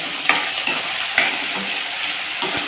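Thutu curry frying in a pan with dried red chillies, stirred steadily with a spoon; a continuous close sizzle runs under repeated scraping strokes, with no talk.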